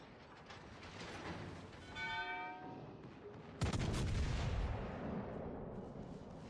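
380mm naval guns firing in a World of Warships battle, a sharp heavy boom midway followed by a rolling rumble, with a faint ringing tone and distant gunfire beforehand.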